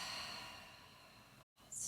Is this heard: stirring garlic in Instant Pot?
no